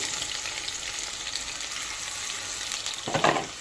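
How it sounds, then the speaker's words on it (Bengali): Chopped onion and bay leaf fry in hot cooking oil with a continuous bright sizzle, close and even, then a short burst of louder crackling and stirring near the end. "দিয়ে দিচ্ছি তেজপাতা দিয়ে দেবো রেখে কুচি দিয়ে দেবো পেঁয়াজ কুচি"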